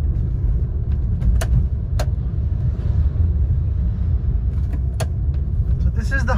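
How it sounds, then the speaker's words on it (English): Trucks and cars passing on a highway at night, a continuous low rumbling road roar with brief higher whooshes as vehicles go by, heard from inside a moving car. "The trucks are coming"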